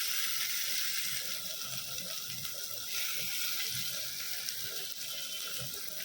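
Water splashes into a hot pan of frying fresh coconut paste on a high flame, setting off a steady, loud hiss that holds for several seconds without talk.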